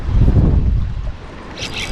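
Strong gusting wind during a windstorm at a bridge batters the microphone in a loud low rumble that eases briefly and then rises again.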